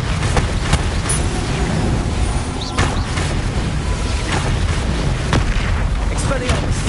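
A Bombarda explosion spell in the video game Hogwarts Legacy, a loud, dense booming roar that rumbles on continuously with sharp crackles layered through it.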